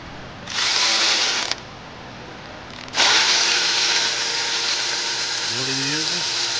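Ratchet with a built-in universal joint working the hard-to-reach oil pan bolts on a 2015 Jetta, heard as bursts of dense mechanical clatter and whirring that fill most of the clip, fairly loud and close.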